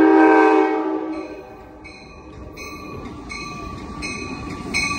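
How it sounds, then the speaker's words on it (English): Amtrak San Joaquin train 714, led by an F40PH locomotive, arrives at Emeryville station with a loud, close horn blast, followed by rumbling railcars and short squealing wheel tones as it rolls in. "here comes Amtrak San Joaquin bound train 714"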